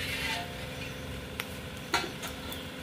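Bori lentil dumplings frying in oil, a low continuous sizzle with a few scraping stirs of a utensil against the pan, close up and without speech.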